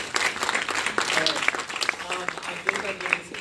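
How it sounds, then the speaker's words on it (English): A panel audience at an academic conference gives a final round of applause, dense clapping throughout with voices speaking over it. "One final round of applause before we go to Q&A."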